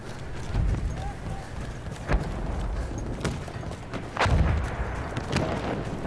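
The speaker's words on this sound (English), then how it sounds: "The explosions in this are awesome." Distant explosions and artillery fire in the Battlefield 1 online shooter thud through the scene at irregular intervals, with heavier booms near two and four seconds, beneath steady background noise and hoofbeat-like rumble.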